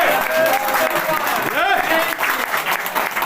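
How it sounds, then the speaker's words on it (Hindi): A crowd at a political gathering claps and cheers loudly throughout, with voices shouting over the dense applause. "ताली बजा दीजिए।"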